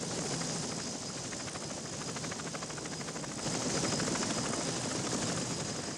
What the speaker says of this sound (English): The Huey was able to carry 11 soldiers and their equipment.